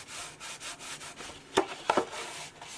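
Glued cardstock being rubbed by hand onto a paper football helmet model, giving soft repeated rubbing strokes with a few sharper papery scrapes, close and fairly quiet, with no talking.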